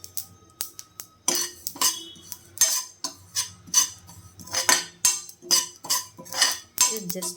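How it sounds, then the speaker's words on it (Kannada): Poppy seeds roast in a pan while a utensil stirs them, giving repeated close scraping and light clinking strokes in a steady rhythm with no talk. "ಇದೇ ಪ್ಯಾನಿಗೆ ಗಸಗಸೆ ತೊಗೊಂಡಿದ್ದೀನಿ, ಇದನ್ನು ಸಹ ಹುರಿತಾ ಇದ್ದೀನಿ"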